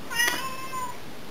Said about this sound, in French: le chat que vous entendez, les miaulements là, c'est mon petit chat